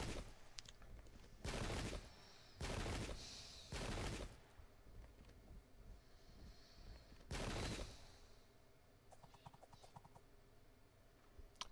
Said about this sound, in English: Oh, good shooting from the Ottomans.